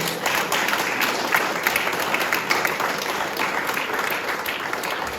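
A church congregation applauds steadily after a prayer, a dense, continuous wash of clapping that holds at moderate loudness from start to end.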